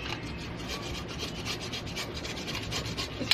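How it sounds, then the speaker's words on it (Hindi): Close, steady rasping as the hard outer skin of a bottle gourd is rubbed against a kitchen grater for halwa, with rapid repeated scraping strokes and no voices. "अब इसे ग्रेट करेंगे"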